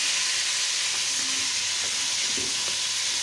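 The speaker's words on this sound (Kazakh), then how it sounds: "алдымен етімізді қызып тұрған майға салып, жақсылап қуырып аламыз" Meat frying in hot oil for homemade lagman gives a constant loud hiss of sizzling, with a few faint clinks of stirring partway through.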